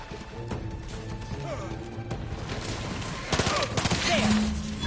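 Gunfire from a weapon in the video game The Outer Worlds 2: sharp bursts of rapid shots and impacts, building to a louder, denser volley near the end, with game sounds around them.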